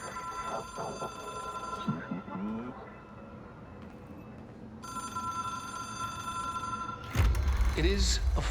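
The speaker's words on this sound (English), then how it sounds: "It is a phone." Old-style telephone bell in the video game Control rings in two long bursts separated by a pause, with a person talking briefly before it and a loud thump as it starts again.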